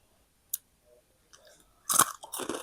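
Crisp chewing of deep-fried white fish (pla khao), a few crunchy bites bunched near the end after a quiet start with small mouth sounds, close and fairly loud.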